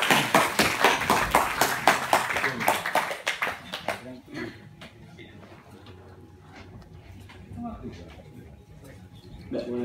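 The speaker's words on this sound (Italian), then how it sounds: "un applauso a Giulio Paolucci" An audience at an Etruscan archaeology talk gives a guest speaker a loud burst of applause that lasts about four seconds and then stops abruptly, leaving quiet room noise with a few faint sounds.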